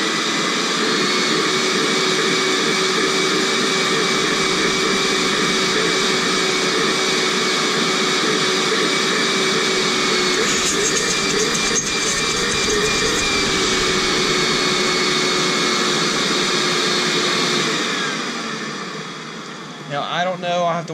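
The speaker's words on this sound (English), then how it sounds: "Turn this on. And I'm going to vacuum just to see if y'all can see any dust come out of this unit." A Rainbow E2 water-filter vacuum cleaner runs loud and close, a steady high motor whine with a sustained tonal hum that holds for most of the stretch before winding down near the end.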